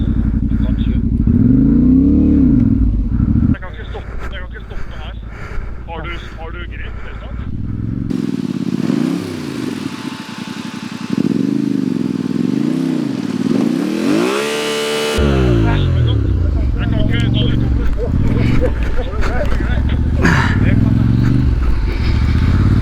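A motorcycle climbs a hill on a Balkan trail ride, its engine revving and shifting through rising and falling pitch sweeps, loud and close, with people talking over it at times.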